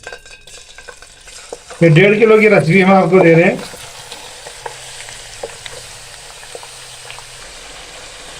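About 1.5 kg of chicken sizzles and fries in melted butter while it's stirred, with a person speaking loudly over the first part before the sizzling continues alone.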